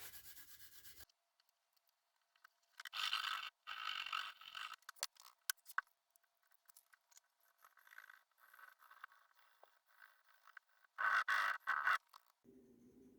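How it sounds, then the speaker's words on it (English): Rubbing and polishing on the fret ends of an East German Musima single-pickup offset electric guitar neck: several bursts of close, quiet friction strokes, separated by pauses, with no talking. "Just going like that and really polishing the fret ends."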